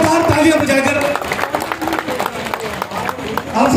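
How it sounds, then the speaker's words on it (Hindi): A large crowd at a Muslim Rashtriya Manch gathering in Delhi claps loudly to welcome two leaders, with steady dense applause mixed with crowd noise and voices throughout. "जोरदार तालियां बजाकर हमारे दोनों लीडरों का स्वागत करें"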